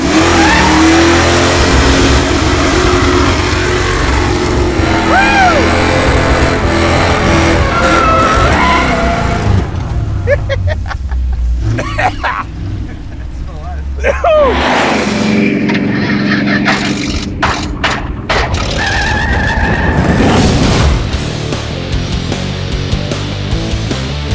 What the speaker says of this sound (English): Now burnouts.